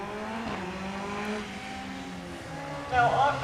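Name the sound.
Caterham R300 race car with 2-litre Duratec engine, sequential gearbox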